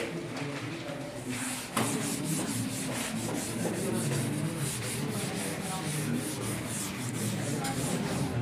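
A diagram being rubbed out on a board during a physics class, a steady continuous scrubbing rasp heard close and fairly loud for several seconds, after a brief knock near the start.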